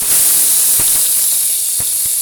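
Cumin seeds dropped into hot oil for a quick cowpea rice dish give a steady loud hiss and sizzle throughout, with a few soft low thumps.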